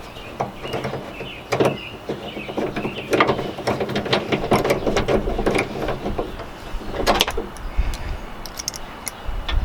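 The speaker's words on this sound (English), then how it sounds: "Now I need to reinstall the two 10mm bolts that hold the handle to the tailgate." Reinstalling 10mm bolts on a 2017-19 Honda Ridgeline tailgate handle: close, small metallic ticks, clicks and ratcheting scrapes of hand tightening, with a few sharper taps.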